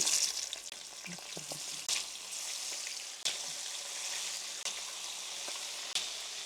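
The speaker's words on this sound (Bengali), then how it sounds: "আমার তেলটা গরম হয়ে গিয়েছে এখন আমি মাছটা ফ্রাই করতে দিয়ে দিচ্ছি" Surma fish frying in hot oil gives a steady, bright sizzle, with occasional clicks and stirring knocks and no voices.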